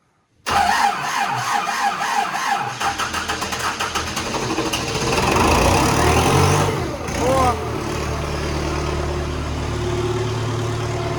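An MTZ tractor engine cranks over several seconds in snowy conditions, then catches and settles into a steady, loud diesel idle close by.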